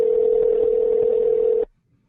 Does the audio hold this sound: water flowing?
no